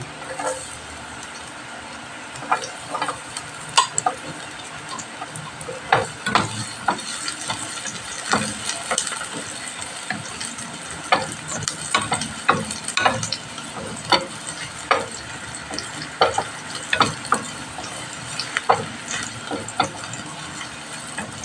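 Garlic fries in a pan with a steady, close sizzle, broken by repeated sharp clicks and scrapes of a utensil stirring through it. Nobody speaks.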